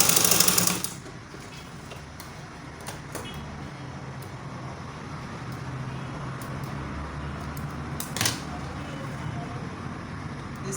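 Sewing machine top stitching fabric on a gathered gown, a low, steady running hum at close range after a brief burst of handling noise.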